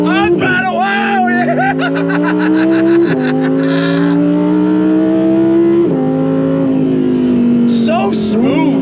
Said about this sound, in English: These fast downshifts. You ready? On throttle!